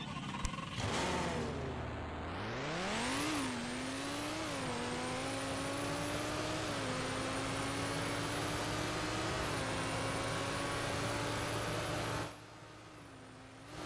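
A Lamborghini on a test drive in Car Crushers 2 revs up from idle to a high, steady engine whine. Its pitch climbs in stepped gear shifts and then holds, close and continuous, before easing off near the end.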